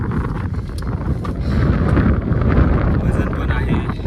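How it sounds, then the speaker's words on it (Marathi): Strong wind gusts across the hilltop at Salher Fort, roaring and buffeting the microphone in a continuous rush that swells louder midway. "अगदी प्रमाणात सुसाट असा वारा सुरू आहे."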